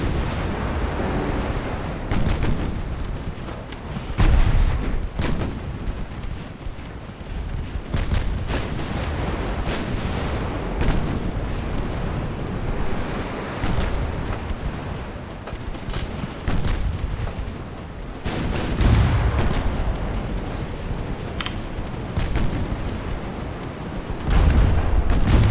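Naval ship guns shell targets at sea in a strategy game. Repeated deep booms and rumbling blasts come at irregular intervals over a continuous low roar, loud and sustained.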